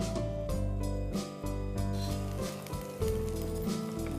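Chopped onion hits hot oil already seasoned with asafoetida and mustard seeds, giving a steady, close crackling sizzle with a few bursts as it settles and gets stirred, no talking over it.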